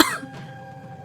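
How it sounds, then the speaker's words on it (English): A violent cough from someone who has breathed in smoke inside a burning building: one harsh burst at the start, then tailing into a faint, noisy background. "I coughed violently after carelessly breathing in smoke."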